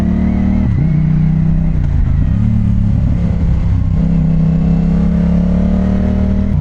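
Big motorcycle engine running loud and close, a deep throbbing rumble with a couple of quick revs rising and falling early on, then a steady heavy idle-like drone throughout.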